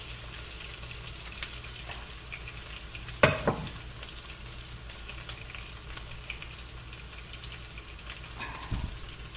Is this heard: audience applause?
no